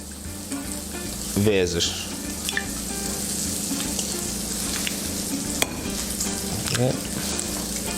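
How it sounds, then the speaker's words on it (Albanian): Guanciale sizzles and fries steadily in a pan, a constant crackling hiss with occasional utensil clinks and stirring, while a person speaks briefly over it. "Ndërkohë që skuqim guancialen"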